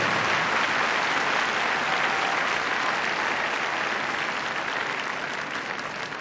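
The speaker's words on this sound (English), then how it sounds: "Well done, give her a round of applause." Arena spectators at a freestyle heelwork to music dog competition give a long, dense burst of applause, loud and even, easing slightly toward the end, with no talking over it.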